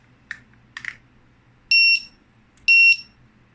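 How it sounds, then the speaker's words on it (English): Two loud, sharp electronic beeps from a ThermoPro TM-01 kitchen timer about a second apart, each lasting a quarter second, preceded by a couple of soft clicks as batteries are inserted. "Oh dear, that was a loud beep."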